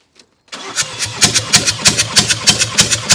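The starter cranks the engine of a 2017 Vauxhall Combo van, a non-runner that is being tested, with a loud, close, rhythmic chug that repeats about three times a second and never catches.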